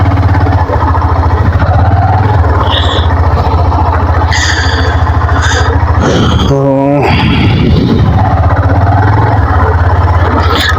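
A motorcycle engine runs at a steady low idle on a muddy village road after rain, loud and close, with a brief rise in pitch partway through.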